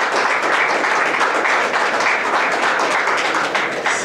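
Steady crowd applause at an art exhibition opening and workshop, dense even clapping continuing throughout at close range.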